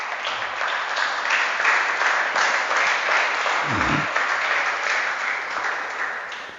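Church congregation in a temple claps together, a full, steady round of applause with a brief low thump near the middle, continuing unbroken for several seconds.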